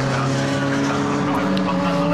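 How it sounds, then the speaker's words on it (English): Formula Ford race cars battle side by side at Brands Hatch, engines droning loudly and steadily close by, with a commentator talking over the noise. "Scrap between the Formula Ford machines."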